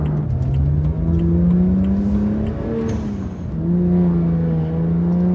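A BMW 1M accelerates hard, its clutch delay valve letting the clutch slip: a steady, loud engine drone whose pitch climbs, dips briefly, then rises again, with no talk over it.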